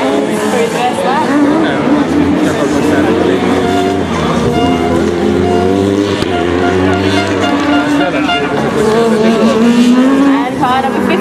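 Formula Student race car running an endurance event on track, its engine note rising and falling through gear changes at a steady, loud level, with a commentator talking over it throughout.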